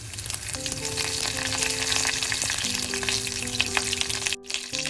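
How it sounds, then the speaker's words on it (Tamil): Mustard seeds and fennel seeds fry in a modest amount of oil for a brinjal and chickpea curry, giving a steady close crackle and sizzle with faint popping and a sharp clink near the end; no talking. "அளவான எண்ணெயை எடுத்துக்கொண்டு கடுகு சேர்க்கிறேன் அதோட பெருஞ்சீரகம் ரொம்ப சேர்ப்பேன்"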